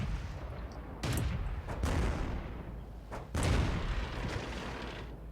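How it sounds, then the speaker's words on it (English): Tank guns boom in the video game World of Tanks, several heavy blasts arriving at uneven intervals over a constant rumbling engine background, each shot followed by a short decaying roar. "My shot went wide"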